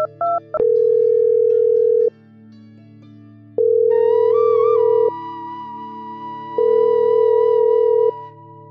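A telephone ringback tone repeats in long, steady, loud beeps with even gaps while the call goes unanswered, and a faint wavering tone sounds briefly in the middle.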